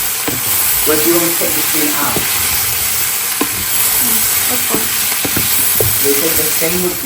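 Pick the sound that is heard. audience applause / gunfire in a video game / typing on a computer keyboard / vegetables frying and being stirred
vegetables frying and being stirred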